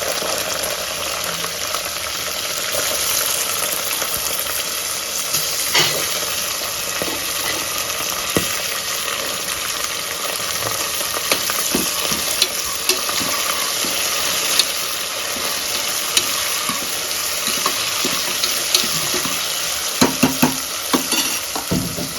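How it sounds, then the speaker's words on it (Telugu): Beans being stir-fried in a pan for a beans and potato masala curry, with a continuous soft sizzle and frequent scraping, clattering stirs throughout. "ఇప్పుడు బీన్స్ వేసుకోవాలి"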